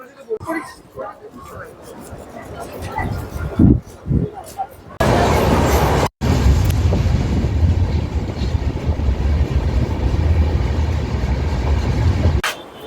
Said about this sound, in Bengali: ঘুষকরা থেকে ট্রেন ছেড়ে দিচ্ছে